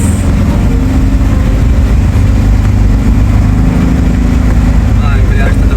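A 4x4 engine strains loudly up a steep rough track with a slipping clutch, giving a continuous, heavy low drone that dominates throughout, with voices talking underneath.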